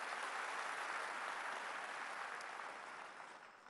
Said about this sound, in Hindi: हम अपने मुख्यमंत्री अरविंद भाई जी का जोरदार तालियों के साथ स्वागत करते हैं